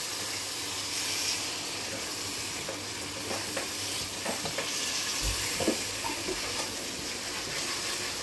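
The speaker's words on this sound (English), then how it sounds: "Give that a little stir for me." Food sizzles and fries in a pan at home while it is stirred, with a steady hiss and scattered scraping clicks over about eight seconds, and no talking.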